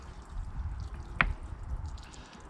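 Water dripping from a freshly watered bonsai pot of potting grit: a single clear drip stands out over a low, steady background hiss.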